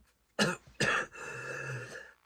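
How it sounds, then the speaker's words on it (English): Two sharp coughs in quick succession followed by a longer raspy, throat-clearing cough, close and fairly quiet. "Started coughing and could not quit."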